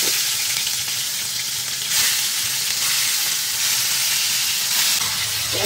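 Onion sizzles steadily in hot oil in a home kitchen pan, a dense continuous frying hiss with small surges and occasional stirring, close and fairly loud with no talk.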